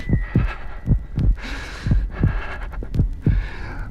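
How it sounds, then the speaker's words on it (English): A slow, steady heartbeat thumps in a ghost story's sound effect, roughly seven deep double-beats spread evenly over a few seconds. The throbbing is loud and close, with no voices over it. "the heart beat on, but at length it ceased"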